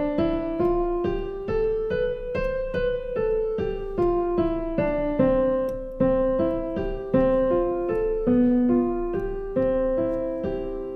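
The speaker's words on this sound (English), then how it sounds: "So we start with our scales" Piano scales played in a steady stream of evenly struck notes, rising and falling in repeated runs with a full ringing tone, close and without any voices.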